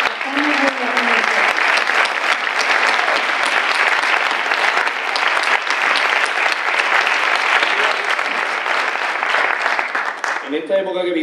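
Sustained, dense applause from a political rally crowd, loud and steady for about ten seconds before a voice briefly breaks in at the end.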